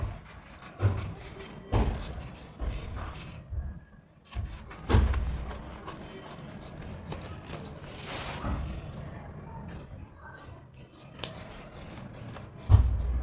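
Paper being cut with scissors for a size 35 princess blouse sleeve pattern: faint, intermittent snips and rustles with a few soft thuds, quiet and close, with no talking.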